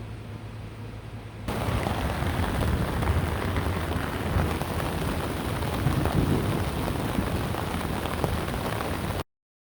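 Heavy rain drums steadily on a canvas tent during a thunderstorm, heard from inside with low rumbles mixed in; a quieter hum gives way to the loud, constant downpour after a second or so, which continues unbroken until the end.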